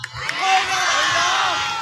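Picnic crowd at a lakeside outing cheers and shouts together, a loud sustained roar of many voices with whoops rising over it.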